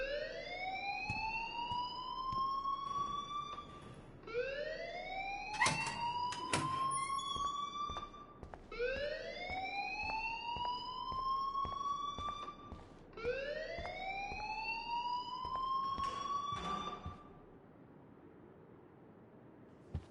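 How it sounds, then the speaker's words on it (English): Repeating rising electronic alarm in a video game, four long whooping sweeps spaced a few seconds apart, loud and steady with clicks and faint background game noise between them, ending abruptly. "please turn off that alarm since that's your job"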